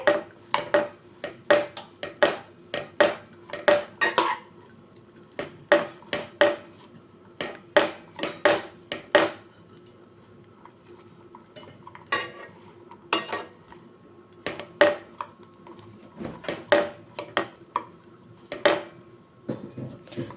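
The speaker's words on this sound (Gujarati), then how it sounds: "હવે આપણે આ ખજૂરને કડાઈની અંદર એડ કરશું ને ઘીમાં સાતડી લેવાની છે ખજૂરને આવી રીતે" Chopped dates being sautéed in ghee in a wok (kadhai): repeated sharp scrapes and clinks of a spatula against the metal pan come in irregular bursts, with only a faint sizzle underneath.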